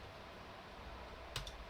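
A couple of quick, faint keystrokes on a computer keyboard, typing a font size into MS Word, heard as two light clicks close together over steady background hiss.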